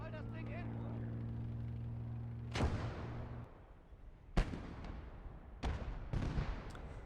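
Mortar rounds of white phosphorus fire in the Gates of Hell: Ostfront battlefield, several sharp booming blasts spaced a second or two apart, following a steady low engine-like drone, with a voice talking throughout.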